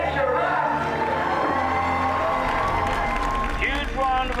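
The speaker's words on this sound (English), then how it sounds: "Huge round of applause." A crowd claps and cheers loudly at a film-set picture wrap, with whoops and shouts rising over sustained applause and voices mixed in.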